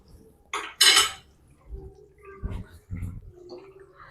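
A utensil cuts boiled eggs in a pan of egg gravy, giving two sharp metallic clinks early on, then softer scraping knocks against the pan.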